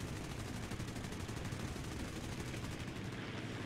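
Rapid machine-gun bursts rattle continuously from aircraft guns in War Thunder realistic air battles, the firing dense and unbroken but fairly quiet in the mix.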